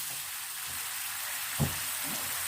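Salted boiled meat frying in a pot with spices, a loud, even hiss of sizzling that runs throughout, with one brief thump partway through and no talking.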